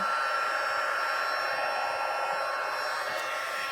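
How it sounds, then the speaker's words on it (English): A steady, loud blowing hiss of an embossing heat gun running continuously without variation, close by and with no voices. "I have an embossing heat gun, and I'm going to go ahead and turn this on"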